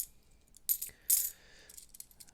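Silver coins, pre-1967 quarters and 50-cent pieces, clink and jingle together in a few short bright bursts, close by, with quiet pauses between the rattles.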